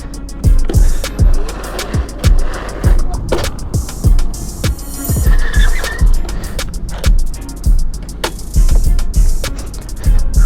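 A modded 72V Razor MX650 electric dirt bike being ridden during wheelie attempts, with loud, uneven bursts of motor and tire noise that surge and drop repeatedly and stay close throughout.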